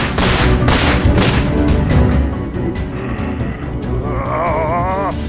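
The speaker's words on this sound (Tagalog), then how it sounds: "Binaril niya sila hanggang sa bumagsak na ang kanilang mga katawan" Repeated gunfire in a sudden close burst, loud and dense, within a tense dramatized scene, followed by rumbling, ringing tones and a rising whine as the shots give way; no talking.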